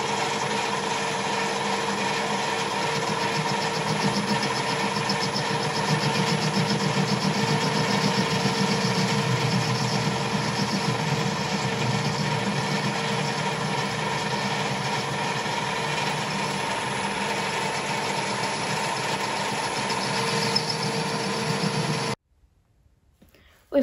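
A metal lathe faces a 3.5 inch metal bar with a steady mechanical hum and whine, with sustained tonal bands and a constant level for over twenty seconds before it cuts off abruptly near the end.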